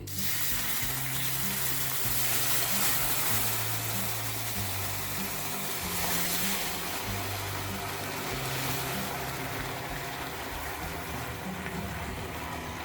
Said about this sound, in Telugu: ఇప్పుడు ఇందులో ఒక హాఫ్ కప్పు వాటర్ని తీసుకొని చిన్నగా పోసుకోవాలి